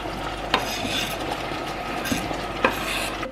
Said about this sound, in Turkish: Şöyle bir karıştırayım.